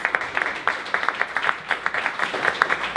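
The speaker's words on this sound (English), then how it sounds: "Give their family a round of applause." Scattered applause from an audience at a Minneapolis Black Business Week summit, honoring a family behind a historic newspaper; uneven, fairly sparse claps close by, with brief peaks rather than a dense roar.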